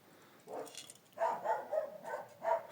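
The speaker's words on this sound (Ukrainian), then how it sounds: "Собаки гавкають ніч." Dogs bark at night somewhere in the distance, a faint short burst of about six barks in quick succession following one earlier yelp, heard from indoors.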